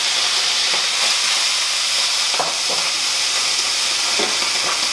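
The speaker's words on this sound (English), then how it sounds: "We'll get a nice sear on it first. Proper sear, nice and hot." Octopus sears in a very hot pan, a loud, constant hiss and sizzle with a few sharper crackling bursts, nobody speaking.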